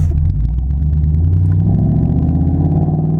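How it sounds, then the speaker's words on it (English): A 2015 Ford Mustang GT fitted with a Flowmaster exhaust rumbles at idle, a loud, steady, deep throaty bass drone close by with no talking. "It just gives you a much more throatier, deep bass tone to it that is what a Mustang's about."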